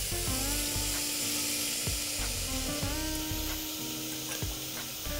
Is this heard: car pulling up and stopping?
no